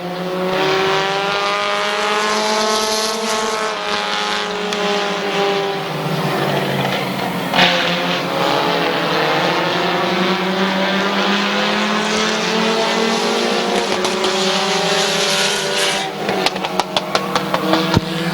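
Race cars roar past at close range on the Midvale Speedway oval, engines loud and continuous with rising and falling revs, a sharp transient midway and rapid crackling bursts toward the end.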